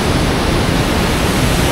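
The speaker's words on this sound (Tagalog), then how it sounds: "Nandito tayo mismo sa mismong dam, yung pinaka binabagsakan ng tubig." Steady, dense roar of water plunging at the Dipalo River dam in the Philippines, a close and loud continuous rush with no pauses, falling roughly 10 to 15 feet.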